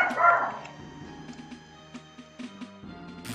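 A dog barking in short, yipping bursts, a few sharp barks spread across the moment over low background tones, fairly close and moderately loud.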